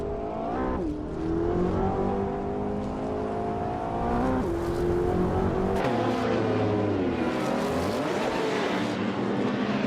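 Race cars roar through a racing video game, engines revving and shifting pitch in a continuous dense pack with tire squeals, loud and unbroken for the whole stretch.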